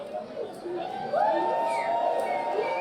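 A wrestling crowd at a Nordic Elite Wrestling main event cheers and shouts steadily for Carlos Zamora, a dense mass of voices that swells louder about a second in and holds, with some whistling and higher yells rising above it.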